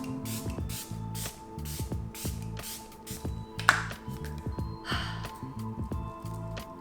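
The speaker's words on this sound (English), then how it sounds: "this is the Milani Make It Last Original Natural Finish Setting Spray" Milani Make It Last Original Natural Finish setting spray misted onto the face, a series of quick rhythmic spritzes from a pump bottle, close and crisp, repeated many times in steady succession.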